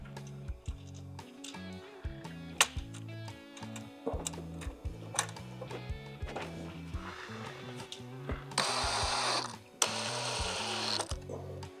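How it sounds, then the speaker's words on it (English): Mounting screws are fitted into a HOGWORKZ performance headlight amp spacer bracket on a Harley Road Glide from 2015 onward, giving close metallic ratcheting and clicking in irregular bursts over a faint tonal background. "And then you can go ahead and install the mounting screws."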